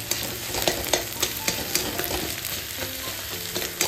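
Eggs stirred and broken into small bits in a hot frying pan, giving a loud, close sizzle with regular spatula scrapes and taps roughly every half second, no voices.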